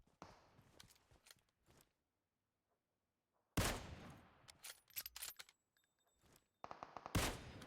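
Gunfire in a battle-royale video game: scattered bursts of shots and quieter rattles, a silent gap, then sharp loud volleys and rapid repeated firing toward the end.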